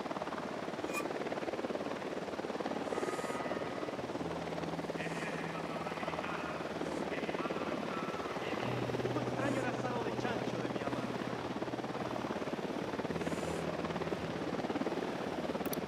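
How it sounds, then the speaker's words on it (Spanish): A helicopter flies overhead in Ghost Recon Wildlands, giving a steady, rumbling rotor drone that fills the whole stretch with a few faint tonal hums underneath, no speech. "Un helicóptero, que no los vea."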